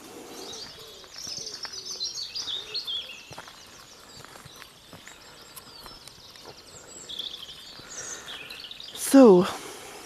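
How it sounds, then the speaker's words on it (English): Wood pigeons coo back and forth outdoors amid steady chirping from other birds, moderately loud and continuous, with one sharper, louder call near the end. "And there's the wood pigeons beginning to sing to each other."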